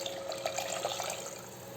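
Water pours into a yogurt and gram flour kadhi mixture, a soft continuous trickle and splash heard faintly and close, with no voices.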